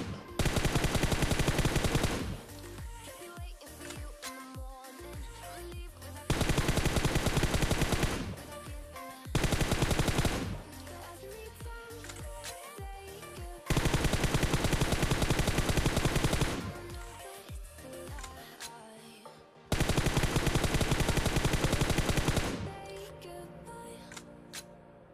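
Bursts of automatic gunfire from PUBG Mobile, loud and dense, arriving in several long volleys separated by quieter stretches of game ambience, with no talking over them.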